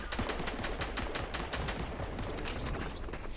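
Rapid automatic gunfire from a Valorant match rattles in a steady, fast burst stream throughout, loud and close, with no talking over it.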